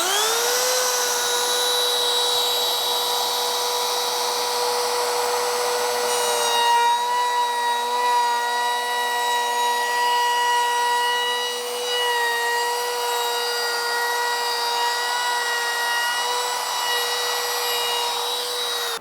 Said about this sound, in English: That's a 1/4 inch roundover running at the variable speed of 4.